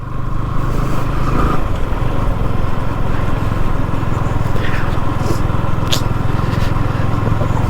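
A motorbike rides slowly with a continuous, close engine drone and road rumble throughout, while a voice talks faintly in the background.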